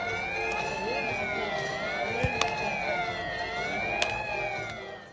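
After a goal at an SC Verl versus FC Groningen football match, a stadium siren wails in a rising and falling tone that repeats steadily and stays loud throughout.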